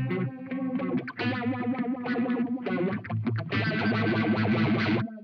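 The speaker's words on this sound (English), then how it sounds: "Up next, you have this phaser, which the phaser is also able to be tempo synced." An electric guitar plays through the Blackstar St James amp sim with its tempo-synced phaser at maximum, sweeping and distorted chords ringing loud and close with no talking.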